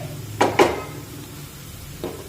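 Rice and vegetable mixture tipped into a pan of softened, lightly browned onion: two quick close clattering thuds near the start, then a faint knock, over a low stove hum.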